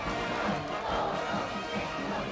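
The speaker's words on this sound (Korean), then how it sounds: "환영의식이 끝나자 무궁찬 환호성이 터져 올랐습니다" Large crowd at a state welcome ceremony in Pyongyang erupting in sustained cheering and shouting, a dense, continuous roar heard from a distance.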